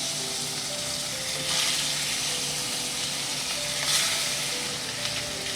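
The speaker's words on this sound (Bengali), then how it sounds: "সর্ষের তেল দিয়ে দিলাম। মাছটা হালকা করে ভেজে নেবো, বেশি ভাজবো না।" Small hilsa fish sizzles steadily in hot mustard oil in a pan, a dense continuous crackle with a couple of brief louder swells, close and alone without talk.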